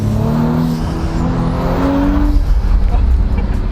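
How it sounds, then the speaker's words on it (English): A 2017-or-later B9 Audi S4 fitted with a 034 Motorsport carbon cold air intake drones close by, its engine tone rising as it accelerates and the intake breathes loudly, with a faint voice speaking over it. "And the intake just goes whoosh all day long."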